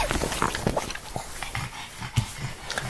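Dogs wrestling together produce a busy mix of snorts, grunts, panting and short growly noises, close and moderately loud, with scuffling bursts throughout.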